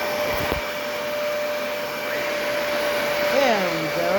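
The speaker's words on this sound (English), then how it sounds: "Now let's go ahead and test the Dyson DC40 Multi-Floor Clean, Total Clean, number 2." A Dyson DC40 Multi-Floor upright vacuum cleaner runs with a steady, close, high-pitched motor whine and airy rush that holds level throughout, with a faint voice near the end.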